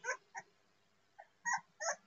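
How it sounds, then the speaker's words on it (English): A two-week-old puppy gives short whimpers and yips, a pair of quick cries, a pause, then three more near the end, faint and close with no talk over them. "this is one of the puppies, by the way, they're 2 weeks old today"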